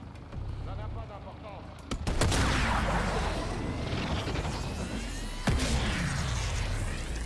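Sniper rifle shots in Call of Duty Cold War, set on a Vietnam mission, produce two loud, sharp cracks several seconds apart, each followed by a long, noisy rolling echo and battlefield din.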